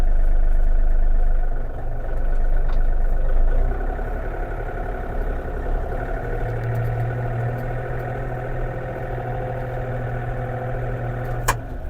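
Yanmar US-330 mini tractor engine running while driving in gear at maximum range, a steady low diesel drone with a louder opening and occasional faint clanks, no talking.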